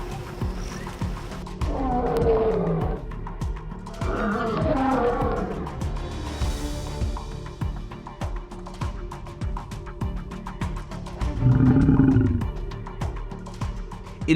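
A lion roars from dense bushes with hunters about fifty yards off, giving deep rumbling bursts in several swells over a steady low background, moderately loud and without talk.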